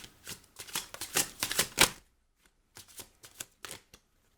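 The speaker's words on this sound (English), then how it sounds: "So we will keep shuffling until the final 1 or 2 cards pop out." Tarot cards being shuffled by hand in two bursts of rapid riffling and flicking, close and clear, with a short pause between them and no talking.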